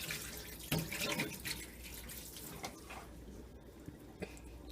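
Water runs faintly from a tap as pomegranate seeds are rinsed in a bowl, a soft, steady wash with a few small splashes and clinks and no talking.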